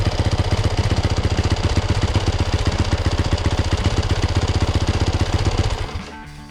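A 2021 Yamaha YZ450F dirt bike engine revs hard in a fast, steady pulsing rhythm, loud and close, then drops off sharply near the end.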